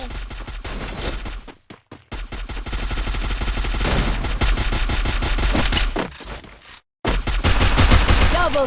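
Counter-Strike gunfire from a USP pistol match, rapid sharp shots in dense clusters with brief silent gaps, loud and close, with faint game effects between bursts.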